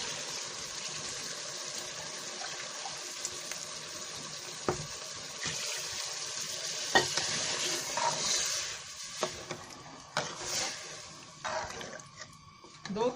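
Ghee-fried masala for aloo matar sabzi sizzles in the pan while two glasses of water are poured in, giving a broad hiss and splashing with sharp clinks, fading toward the end; a voice speaks faintly.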